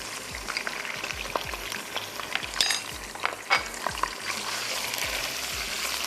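Chicken pieces fry with garlic and ginger paste in a karahi for boti karahi, making a steady, close, loud sizzle with stirring scrapes and occasional utensil clinks against the pan throughout.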